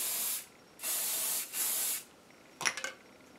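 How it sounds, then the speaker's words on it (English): Three quick hissing bursts from a hairspray can onto the tails of a bandana, close by, followed by a few faint clicks. "So I'm gonna spray the tails."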